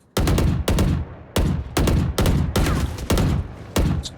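Loud, close gunfire from Valorant: about eight sharp shots or short bursts in an uneven rhythm, each ringing briefly before the next, with no talk.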